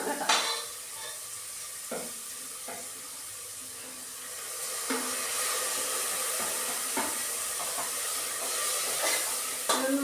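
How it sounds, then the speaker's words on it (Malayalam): Onions and green chillies sautéing and being stirred in a pan for a chickpea curry, a steady soft sizzle with scraping stir strokes close by, no talk. "ഇട്ടതിന് ശേഷം നല്ലോണം വഴറ്റിയെടുക്കണം."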